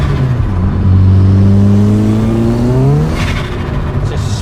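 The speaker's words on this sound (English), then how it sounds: "Sounds nice though, I like the dump valve and that." Opel Corsa B with a turbo and blanked-off dump valve, its engine revving up in one long rising pull, loud and close, then a hissing release as the throttle closes.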